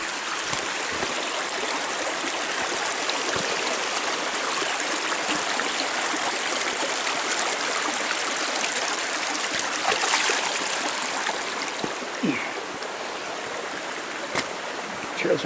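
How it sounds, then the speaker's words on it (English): Creek flowing beside a forest trail at Pixley Falls State Park, a steady broad rushing of water filling the scene with faint scattered knocks and rustles, close and continuous. "Across the creek again."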